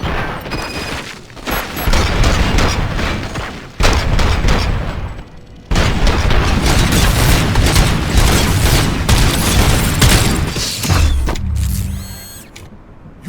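Gunfire in the Robocop: Rogue City shooter, loud sustained bursts of shots and impacts broken by two short pauses, tailing off into quieter mechanical sounds at the end.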